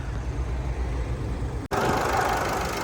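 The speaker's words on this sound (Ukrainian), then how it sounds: "зараз заведемо мотор, мотор вже заведений, точніше" A 2.0 diesel engine in a Nissan Qashqai+2 idles steadily with a low, even rumble, briefly cut by a short gap before the hum continues.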